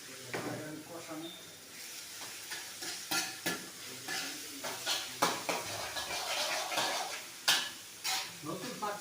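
Green chili and ginger paste sizzling and frying in a pan while being stirred, with scraping utensil clicks and steady hiss, voices talking faintly in the background.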